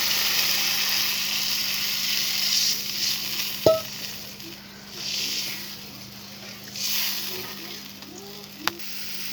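Water poured onto fried, oil-released masala in a pan for a koi fish curry gives a steady hiss and sizzle, with a couple of sharp clinks of a utensil and soft stirring.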